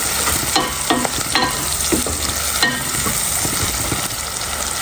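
Onions frying in a pan as the base for a hilsa fish curry: a loud, steady sizzle throughout, broken by several sharp scraping stirs at irregular intervals.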